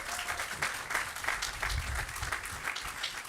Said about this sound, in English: How about a round of applause for our governor?